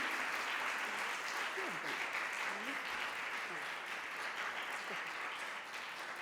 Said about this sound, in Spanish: Y ahora me despido de Nazanín con un fuerte aplauso.